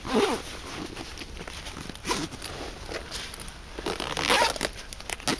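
Zips on a bag being worked by hand, a run of short rasping pulls and rustling handling noise, close and fairly loud throughout with no talk.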